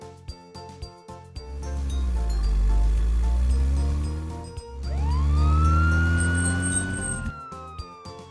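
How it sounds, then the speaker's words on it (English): Police car siren wailing loudly and close in two rising-and-falling sweeps, with a faint engine rumble underneath and no talking. "Police car."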